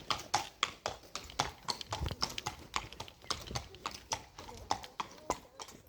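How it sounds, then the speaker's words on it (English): Horse walking on a rural village road in Stathern, hooves clip-clopping in a steady, close, distinct rhythm of sharp repeated strikes throughout. "And a horse."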